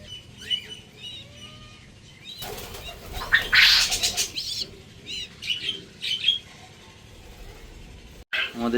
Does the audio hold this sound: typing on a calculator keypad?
no